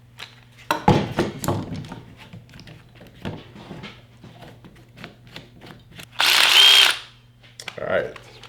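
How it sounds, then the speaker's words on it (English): DeWalt shear attachment on a 20 volt brushless XR drill, one loud, close burst of whirring lasting under a second, following a stretch of light handling clicks and taps. "so we'll try this on the drill, brushless"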